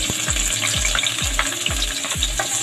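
Garlic fries in a hot pan with a steady, loud sizzle, broken by repeated scrapes and knocks as it is stirred about every half second; no one speaks.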